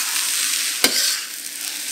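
Pea shoots stir-fried in a pan with soy sauce and Chinese cooking wine, a steady bright sizzle running throughout with one sharp clack of a utensil near the middle, close and continuous with no talking.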